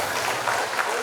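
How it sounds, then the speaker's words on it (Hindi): An audience at a university Hindi festival seminar session claps for the speakers on stage. The dense, steady patter is loud and close and fills the whole brief moment. "एक बार मंच के लिए जोरदार तालियां होनी चाहिए श्रोताओं के तरफ से।"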